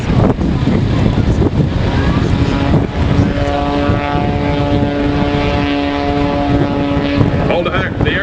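A propeller aerobatic airplane performs at the Fort Drum air show, its engine roaring loud and steady with a droning whine that rises and falls as it climbs and dives, while an announcer talks over it.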